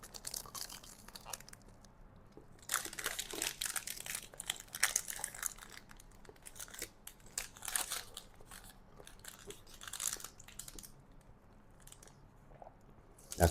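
Crunchy bites into an air-fried chiko roll, the classic Australian snack, give a string of crisp crackling chews and crinkles, loudest in bursts through the middle, close up with no talking.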